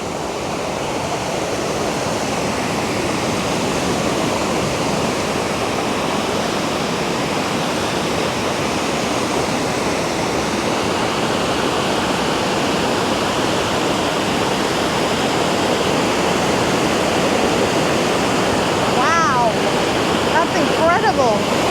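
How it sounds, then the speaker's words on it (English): Water pouring through the outflow at Mammoth Spring, Arkansas, a loud, unbroken broadband rush that holds steady from start to finish, close by. "Now you can see the water flowing through here big time."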